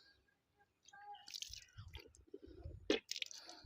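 Water swished and rinsed in the mouth during wudu ablution, a rinse repeated three times, with close wet sloshing, squishy gurgles and a sharp splashing spit near the end, with no talk over it.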